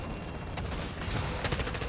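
Gunfire in Modern Warfare 3 as players try to shoot down an aerial target, a dense crackle of rapid shots that thickens into a louder burst of fire near the end, with no talk.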